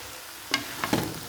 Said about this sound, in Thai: คั่วอีกนิดนึงเอาน้ำเสร็จ